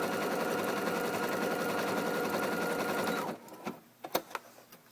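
Singer Futura sewing embroidery machine stitching fabric: a fast, steady mechanical whir with even rapid clatter runs for about three seconds, then stops, leaving a few faint clicks and handling sounds.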